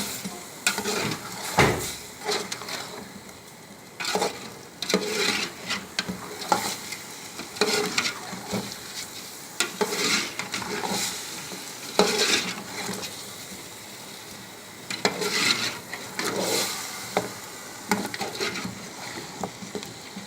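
Masala for Lahori murgh cholay fries with a steady sizzle while a utensil stirs and scrapes the pan in repeated, uneven strokes, close and continuous.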